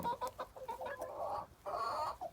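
Ornamental hens from a Polish breeding flock cluck softly and steadily nearby, a run of low murmuring clucks with a brief pause before another rising burst of calls.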